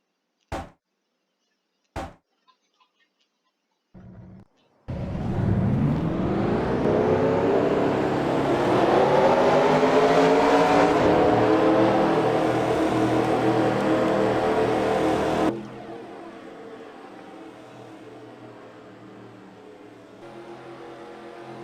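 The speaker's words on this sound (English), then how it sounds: "So let's hear the starting of the engines in about a couple seconds." A few sharp knocks, then video game race car engines crank and roar to life together, a loud rising drone that holds, then drops to a lower idle.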